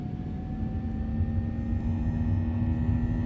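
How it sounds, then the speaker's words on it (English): Boeing 737 jet engines spooling at takeoff power in the X-Plane 10 flight simulator: a steady, loud, dense roar with a low rumble and a faint whining tone, no voices. "Takeoff power set."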